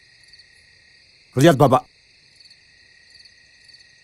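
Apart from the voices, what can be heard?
crickets chirping at night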